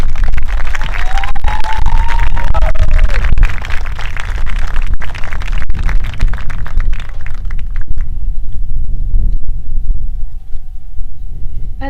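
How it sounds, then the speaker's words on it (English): Audience at a high school homecoming coronation applauding the candidates, a loud, dense wall of clapping and cheering that thins and fades toward the end. "Let's give everyone a big round of applause."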